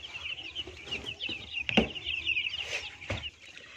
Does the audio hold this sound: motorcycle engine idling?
no